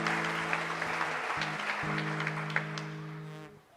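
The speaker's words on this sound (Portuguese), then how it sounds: "Aplauda mais uma vez o Senhor Jesus." A church congregation applauds during worship, steady clapping over sustained low keyboard chords, fading out near the end.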